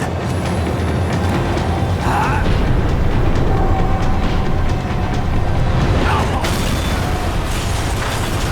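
A loud, steady mechanical rumble of a slowing tram in the video game Max Payne 3, with low booms and faint squeals, continuous and close throughout.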